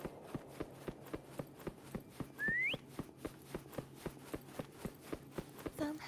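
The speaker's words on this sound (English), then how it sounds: "Try whistling." A single short rising whistle cuts in briefly in the video game Wuthering Waves, over a steady, evenly spaced run of footsteps or hoofbeats that continues throughout.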